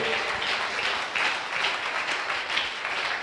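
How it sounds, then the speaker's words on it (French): A congregation at a church service applauds, with a dense, steady wash of clapping from many hands that stays even throughout. "Give the Lord a big applause."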